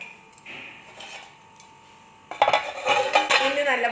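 A metal lid is set onto a cooking pot while a raw banana and prawn curry with roasted coconut is being made, giving a quiet clatter followed by brief, louder metallic clinks and rattles close by.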